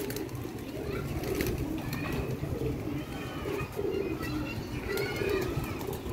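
A pigeon coos repeatedly in soft, low rolling phrases, close by, over a steady background rumble with faint chirps.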